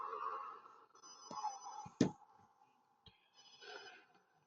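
In the PS2 horror game Obscure, a phone rings in a faint, dim scene, with two short ringtone bursts and a sharp knock between them.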